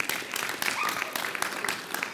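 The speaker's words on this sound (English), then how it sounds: "let's give them a round of applause" An audience applauds at a city council meeting in Enterprise, Alabama, honoring a youth baseball team and its coaches. The clapping is steady and moderately distant, filling the hall throughout.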